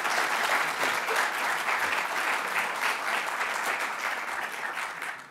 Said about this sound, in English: ask that you give them a round of applause for